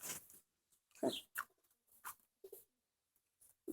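Tumbler pigeons around a new coop, with scattered short, faint bursts of wing flaps and soft calls separated by quiet gaps.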